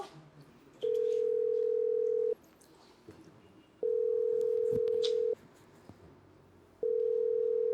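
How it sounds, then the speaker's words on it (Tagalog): A telephone call rings out as a steady electronic tone in long bursts of about one and a half seconds, separated by pauses, heard three times and fairly quiet. "Tawagan ko lang sana si Sam."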